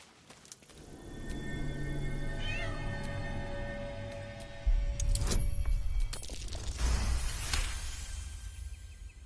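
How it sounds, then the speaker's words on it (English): A cat in Baldur's Gate 3 meows several times over a steady game ambience, its wavering cries rising and falling clearly in the foreground, with a louder thump near the middle. "The cat peers back"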